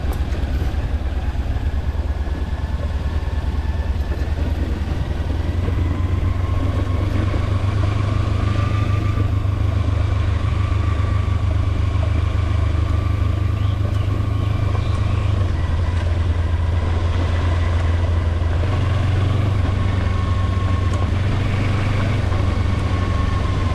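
A Kawasaki Versys X300 parallel twin engine whines steadily while the motorcycle is ridden, a continuous loud drone with road and wind rush, no talking.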